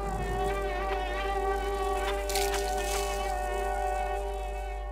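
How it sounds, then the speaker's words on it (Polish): The giant fly in the Limbo video game, which carries the player off inside a factory, gives a steady, droning insect buzz with a whining harmonic tone that holds unbroken and fairly close throughout, with no talk. "Dobra, mucha nas zabrała."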